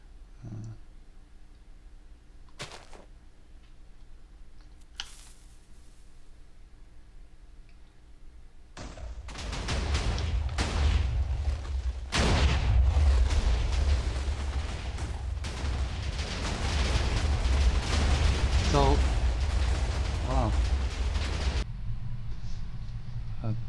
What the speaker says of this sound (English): I'll just go blow this TNT up.